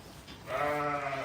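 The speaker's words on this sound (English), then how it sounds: "sheep caught." A single sheep caught on a farm gate lets out a loud, close bleat that holds steady for most of a second after a brief quiet start, with no talking.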